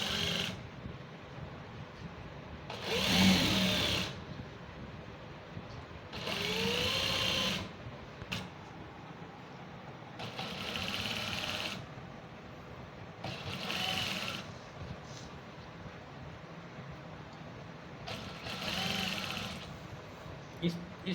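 An electric sewing machine stitching a kameez in a tailoring lesson, running in five short bursts of whirring separated by pauses while someone talks throughout.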